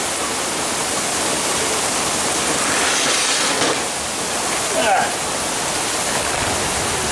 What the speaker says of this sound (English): It is really, really pouring out there.